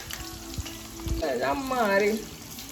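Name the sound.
onion frying in hot oil with garlic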